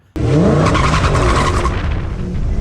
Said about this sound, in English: having problems like I was with wheel hop